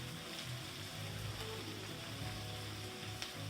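Chopped cabbage sizzles and crackles in a hot electric skillet as it is stirred, a steady close frying hiss with occasional scrapes and pops.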